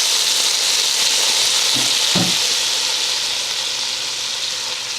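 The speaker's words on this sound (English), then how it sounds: "I've got a pan hot with some butter." Onions fry in butter in a hot pan, giving a steady, loud sizzle and hiss throughout, with a brief clunk of stirring or handling partway through.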